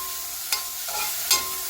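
Chicken soup ingredients are stirred in a pan over a steady frying sizzle, with two sharp scraping strokes of the spoon against the pan.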